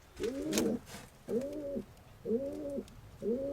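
Pigeon sitting on an empty nest cooing, four soft repeated coos at an even pace, close and fairly quiet.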